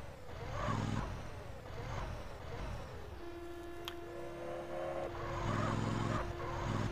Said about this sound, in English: I get to drive a forklift.